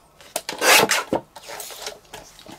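Paper card stock trimmed down to a 4¾ by 6¾ inch size for an envelope card, giving a short run of close, dry rasping and scraping strokes, a few sharp swipes then softer rubbing.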